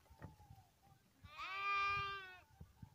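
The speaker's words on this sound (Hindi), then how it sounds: "देखिए बकरिया और भेड़ है ये सऊदी में, ये बकरिया भेड़ देखिए" Goats and sheep bleat in Saudi Arabia, one long wavering harmonic-rich bleat rising clearly over faint rustling and brief softer calls, fairly near and loud in the middle of the moment.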